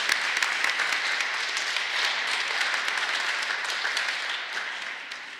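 A church congregation at Sunday Mass applauds to welcome new members, a full even roar of many hands clapping that holds steady for several seconds before fading slightly at the end.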